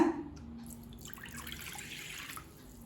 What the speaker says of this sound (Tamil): இப்போ 3/4 கப் தண்ணி சேர்த்துக்கலாங்க.